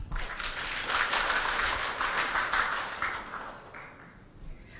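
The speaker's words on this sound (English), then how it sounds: "please kindly give applause for the opening speech" An audience at an international conference applauds after the opening speech, a steady wash of many hands clapping in a large hall that holds for a few seconds, then tapers off.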